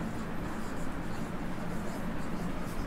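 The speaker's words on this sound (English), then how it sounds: "First, I am writing here" Marker or chalk writing on a board makes a continuous, close scratchy rubbing texture at an even level, with no clear pauses and no speech.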